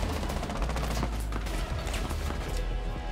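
Rapid bursts of automatic gunfire in a Rainbow Six Siege match, a dense, steady volley of overlapping shots that stays loud for the whole stretch.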